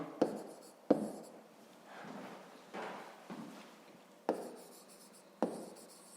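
Handwriting on paper during a school maths exercise, a few soft scratchy pen strokes separated by pauses, near and quiet, with no talking.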